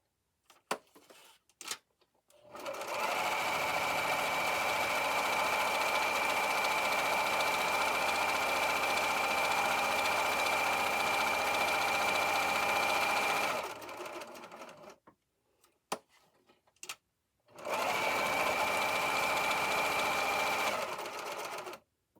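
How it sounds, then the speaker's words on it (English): A serger overlock machine stitches along fabric edges in a long steady whirring burst of about ten seconds, then stops and runs again for a shorter burst, close and fairly loud, with soft handling noises in the pauses. "I'm just serging the edges to secure the fabric edges."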